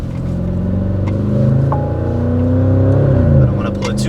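A Porsche Cayenne Turbo GT with a TechArt exhaust idles in Sport Plus mode on a city street, a loud, deep rumble with uneven burbling pops that swells and fades.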